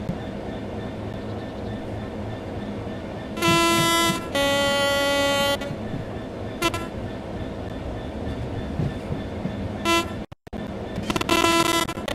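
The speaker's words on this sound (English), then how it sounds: "The train will then coast on level ground, and the train will only slow down very gradually." In the video game Train Sim World 3, a Class 66 locomotive coasting on level ground rumbles steadily along while its horn sounds in several long blasts, with a short sharp break near the end.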